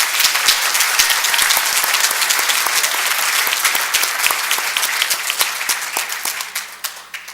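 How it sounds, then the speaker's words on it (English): Hall audience applauding young contestants at a spelling bee, loud dense clapping that gradually thins and fades into scattered claps toward the end. "please give all these kids a big round of applause"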